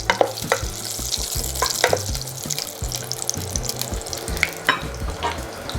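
Celery, carrot and garlic frying in olive oil in a pan, a steady close sizzle with crackling pops and the scrape of stirring, no talk.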